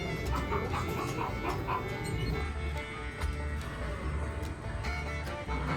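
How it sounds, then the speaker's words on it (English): A dog gives a few short, fairly distant barks and yips over a constant low background rumble, at night in Liberty Square at Walt Disney World's Magic Kingdom. "Oh, a dog."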